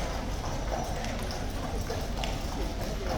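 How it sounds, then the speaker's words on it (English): Police horses' hooves clip-clop on the street in the morning near the Horse Guards, a steady quick rhythm of hoofbeats close by under constant outdoor crowd noise and chatter. "Spoiled for police horses this morning."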